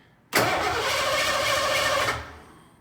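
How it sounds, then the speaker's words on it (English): A car's starter motor cranks the engine in one continuous loud, close burst lasting almost two seconds, a steady whirring grind that cuts off and fades without the engine catching. "crank the engine over, and we'll watch to see how much current the starter is drawing during cranking."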